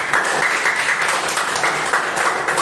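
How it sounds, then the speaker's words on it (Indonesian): An audience applauds at the close of a teacher-training reflection session, a steady dense wash of clapping throughout, fairly close and even in level. "Tepuk tangan untuk semuanya."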